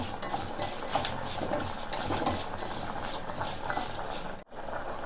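Curry leaves frying in a pan for a traditional pumpkin and raw banana sambar, steady hiss and crackle with occasional clinks of a stirring spoon, nobody speaking.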